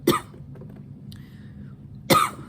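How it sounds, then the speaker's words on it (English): Two sharp, close coughs, one at the start and another about two seconds later, with a quiet gap between them holding faint soft sounds. "there will be a playful amount of coughing in this sequence"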